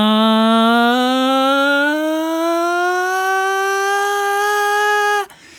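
A single voice sings one sustained vowel that glides slowly upward in pitch for about five seconds, then stops abruptly.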